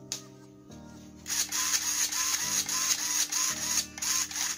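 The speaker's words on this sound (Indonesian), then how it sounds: "pas full tuh, kedengeran kan suara servonya bunyi kan." An RC servo motor driven to full travel by a remote, giving a steady high-pitched electric whine with low hum beneath that rises and shifts in short stages, fairly loud and alone.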